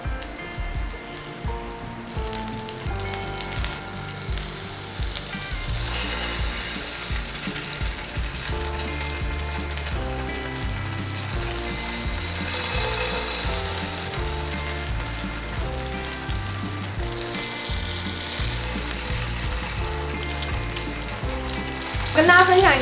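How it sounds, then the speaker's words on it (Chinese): Stuffed tofu with a vegan filling frying in a pan, its second side browning, a steady close crackling sizzle with bursts of spatter and occasional scraping or clicks, alone without talk. "我们就把它翻面，换另外一面来煎"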